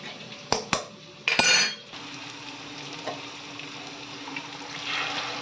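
Boiled mutton goes into a pan of sautéed tomato and onion for mutton chukka: a few sharp metallic clanks, a sudden burst of sizzling as the meat lands, then a quieter, steady frying hiss with light stirring.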